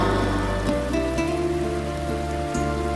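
Dense, steady rain pattering that forms a constant wash of noise throughout. Sustained musical tones play over it, and no one speaks.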